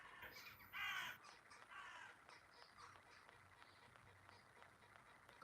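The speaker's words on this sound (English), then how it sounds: "Crows." Crows cawing outdoors, a loud burst of harsh caws near the start followed by more scattered, fainter calls over steady background noise.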